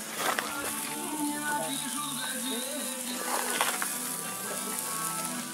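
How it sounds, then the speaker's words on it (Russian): Steady sizzling of bread frying in a pan, with voices talking faintly over the crackle. "Жарим хлебушки"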